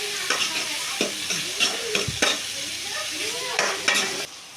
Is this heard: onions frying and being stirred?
yes